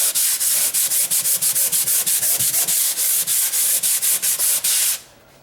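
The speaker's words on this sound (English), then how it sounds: "That's about all the sanding you have to do." Hand sanding of a drywall patch gives a loud, rhythmic scratchy rasp of quick back-and-forth strokes that repeat steadily for about five seconds and then stop abruptly.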